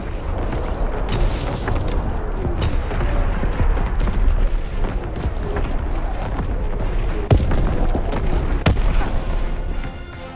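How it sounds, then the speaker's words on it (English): Incoming artillery shells explode in Call of Duty: WWII, with heavy booms and sharp blasts over continuous battlefield gunfire and mechanical clatter, loud and dense throughout. "Incoming enemy artillery! Get to cover!"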